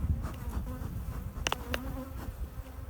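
Honey bees buzz steadily inside an open hive during a spring inspection, a dense close drone with a few sharper knocks and clicks from handling the frames.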